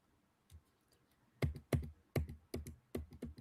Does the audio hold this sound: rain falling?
no